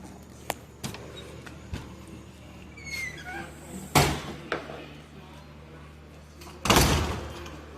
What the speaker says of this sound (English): Open up the door again.